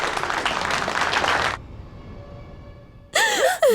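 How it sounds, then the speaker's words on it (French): An audience cheers a dance troupe after a trophy is awarded, with dense applause for about a second and a half, then it cuts abruptly to near silence before a sudden burst of other sound. "Donc accueillez-les avec vos applaudissements maintenant."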